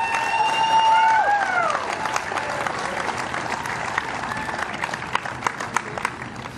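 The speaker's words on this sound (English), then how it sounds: "ladies and gentlemen, in third place, please give a big round of applause for Katrina Head." A crowd at a STIHL Timbersports competition in Australia in 2021 applauds a third-place winner with steady clapping and some cheering and whistling, loudest at the start and easing slightly as it continues.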